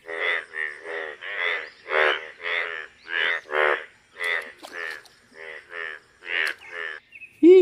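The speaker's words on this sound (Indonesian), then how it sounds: "Wow, ada si kodok." A video game frog sounds a long run of rhythmic, throaty croaks, evenly paced and close, ending in a brief higher call.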